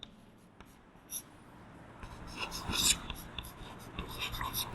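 Chalk or marker scratching on a board during a class 10 genetics lesson, a few short strokes and taps at close range over quiet room noise.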